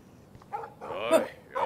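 A dog barks in the Life is Strange video game, with a few short, close barks and yips over a low, muffled game background.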